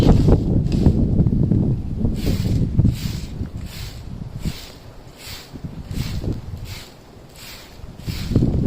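Wind blows steadily outdoors near the microphone, gusting in low rumbling buffets that rise and ease over several seconds, with faint rustling mixed in.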